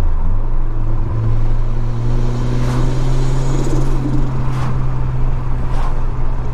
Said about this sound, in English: Sounds really nice with the exhaust on it. It's not overpowering. It's got a nice rumble to it.